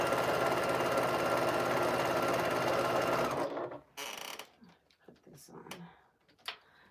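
Sewing machine stitching a rag flannel quilt, a steady dense mechanical whir running loudly for about three seconds before stopping, followed by faint handling clicks and quiet speech.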